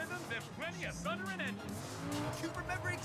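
Racing car in a video game with its tyres squealing under too much throttle, short high chirps and engine whine, heard faintly beneath someone speaking.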